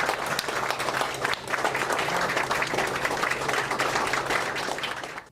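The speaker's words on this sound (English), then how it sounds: "Hundreds clapped for Moanalua High School's Associate Athletics Director Natalie Iwamoto as she left the courtroom this morning." Hundreds of people clap steadily and loudly for a Moanalua High School associate athletics director as she leaves a courtroom, a dense, continuous wash of applause lasting throughout.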